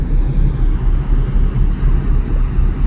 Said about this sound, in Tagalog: Makina, nandito yung makina.